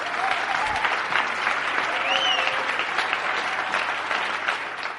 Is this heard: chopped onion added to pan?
no